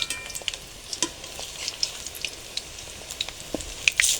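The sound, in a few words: pumpkin flower fritters frying on low heat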